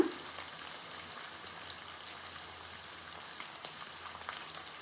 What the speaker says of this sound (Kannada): ಈಗ ಸಾಸಿವೆ, ಜೀರಿಗೆ ಮತ್ತು ಕಡಲೆಬೇಳೆ ಎಲ್ಲ ಚೆನ್ನಾಗಿ ಫ್ರೈ ಆಗಿದೆ. ನಾನೀಗ ಇದಕ್ಕೆ ಆನಿಯನ್ ಹಾಕ್ಕೊಳ್ತಾ ಇದ್ದೀನಿ.